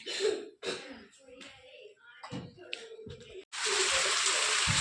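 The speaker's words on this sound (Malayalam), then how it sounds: "നല്ല മഴയാണ്" Heavy rain starts suddenly after a stretch of people talking, becoming a loud, steady, dense wash of noise that fills the final second and a half.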